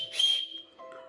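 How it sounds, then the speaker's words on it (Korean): A whistle carried for self-defense gives one short, shrill blast, close and clear, followed by a fainter lower tone as it trails off. "호루라기."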